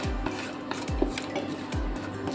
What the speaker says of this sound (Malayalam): ഇനി കപ്പലണ്ടി കൂടി നമുക്കൊന്ന് ഡ്രൈ റോസ്റ്റ് ചെയ്തങ്ങ് എടുക്കാം.